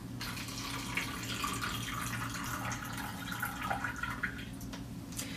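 Water runs and drains out of a bowl in a kitchen sink, a steady close splashing trickle that continues evenly throughout with no talking.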